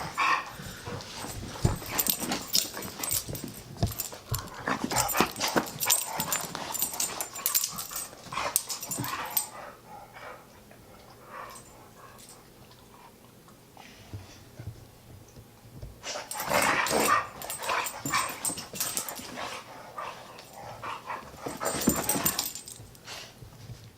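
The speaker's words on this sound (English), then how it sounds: "Oh, you crazy little dog." A small dog barks and whimpers in excited bursts close by, pausing briefly midway with quieter panting and shuffling before another burst of yelps and whines.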